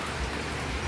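Steady rain falling, a continuous even hiss of drops with no break across the short stretch.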